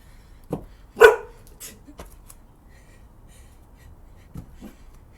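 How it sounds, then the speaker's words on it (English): A dog gives a few short, sharp barks at fairly close range in an otherwise quiet garden, with faint sounds between them. "Are you barking at me?"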